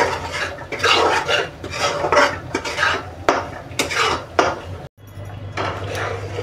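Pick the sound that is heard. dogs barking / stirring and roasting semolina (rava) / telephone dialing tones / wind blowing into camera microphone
stirring and roasting semolina (rava)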